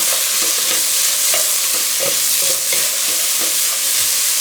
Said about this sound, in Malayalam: ഇനി ഇത് നന്നായി വഴറ്റിയെടുക്കണം കേട്ടോ